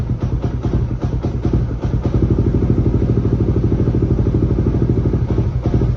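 Motorcycle engine fitted with an Aracer RC Mini X ECU with a rumble/backfire feature, running loud and close with a rough, pulsing idle and rapid rhythmic firing throughout.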